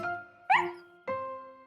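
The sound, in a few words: cartoon dog barking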